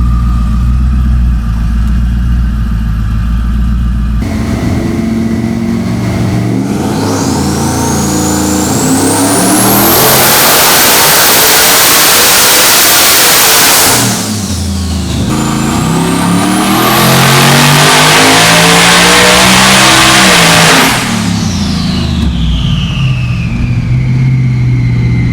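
A Ford F150 built for about 1,500 horsepower revs hard on a dyno, with two long, very loud pulls that climb steadily to a screaming peak, each followed by a drop back to idle.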